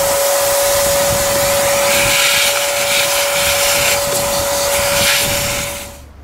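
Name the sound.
vacuum cleaner vacuuming out air filter housing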